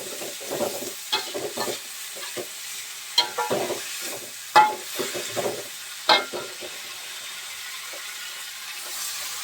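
Water spinach (kangkung) stir-fried in a home kitchen pan, heard as a series of close, uneven scraping and tossing strokes over a faint steady sizzle, with gaps between the louder stirs.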